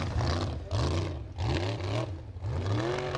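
A formula offroad car with a not entirely healthy engine revs hard on a final climb at an Icelandic cup event on a Norwegian track, roaring in repeated surging bursts with a rough, uneven tone.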